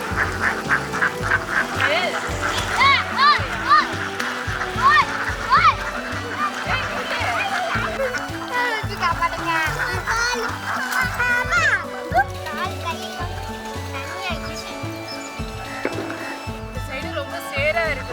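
A large flock of ducks grazing outdoors in rural Tamil Nadu quacks in a dense, continuous chorus of overlapping calls, close and loud, with occasional splashes.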